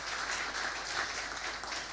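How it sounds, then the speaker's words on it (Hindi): Church congregation clapping loudly together during a service, a dense steady wash of applause with no voices on top. "आइए जोरदार ताली उस खुदावन यीशु मसीह के लिए"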